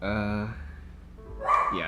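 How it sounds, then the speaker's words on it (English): A neighbor's dog barks in short bursts near the end, behind a person talking close by. "that's the neighbor's dog"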